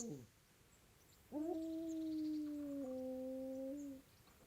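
A dog in the medieval video game Kingdom Come: Deliverance gives a short whimper, then one long, mournful howl that holds steady for a few seconds and bends slightly in pitch before trailing off, close and clear.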